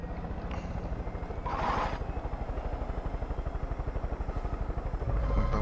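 A helicopter flies in the video game Far Cry 5, its rotor producing a fast, even thudding chop that runs the whole time, close and loud, with a brief burst of clatter partway through.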